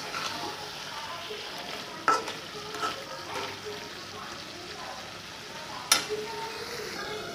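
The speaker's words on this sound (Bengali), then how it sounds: "ঢাকনাটা খুলে আবার নেড়ে চেড়ে মিশিয়ে নেব" Chicken curry stirred in a pan over a steady soft sizzle of frying, with occasional brief clinks and scrapes of the spoon against the metal.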